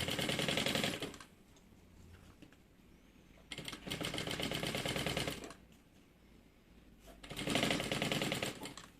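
Sewing machine stitching binding trim along the edge of a fabric toiletry bag, running in three loud bursts of rapid mechanical chatter separated by quieter pauses.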